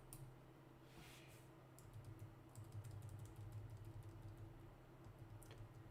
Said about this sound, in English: I'm using my left arrow key on my keyboard